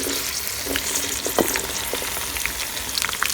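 Okra frying in oil in a kadhai for badami bhindi, a dense close sizzle with sharp crackles and occasional stirring scrapes, loud and steady throughout with no voices.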